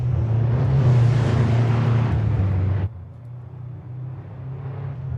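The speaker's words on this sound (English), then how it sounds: "Senf has a massively loud car every time I go into this" A loud race car engine from a Bahrain endurance racing game roars steadily close up with a bright, buzzing tone. It drops abruptly to a quieter, lower drone partway through, as if the car pulls away or shifts.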